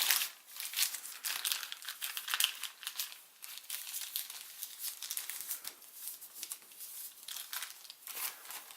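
Origami paper for a cactus model is folded and creased in close, continuous crinkling and rustling, with soft irregular crackles and taps throughout and no speech.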